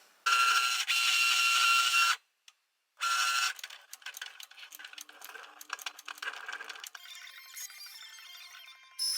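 A Cricut cutting machine fitted with a deep point blade works through red glitter card, giving a loud whirring run, a short pause, then busy clicking and rattling carriage movements and small clinks close by.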